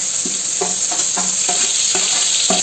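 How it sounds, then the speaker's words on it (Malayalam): Chopped onions frying in oil in a pan while being stirred, with a steady close sizzle and repeated scraping strokes of a spoon against the pan, no talking. "ഇതേ ഓയിലിലേക്ക് തന്നെയാണ് നമ്മൾ ഉള്ളി ഇട്ട് കൊടുക്കുന്നത് കേട്ടോ"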